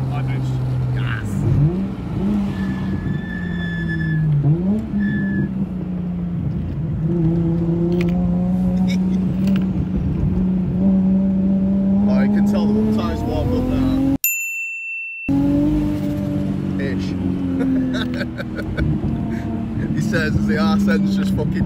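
A tuned turbocharged car accelerating hard on high boost, around 1.6 bar and roughly 500 horsepower at the wheels, its engine note climbing through repeated rising pulls, loud and close, with people talking over it and a brief dropout midway.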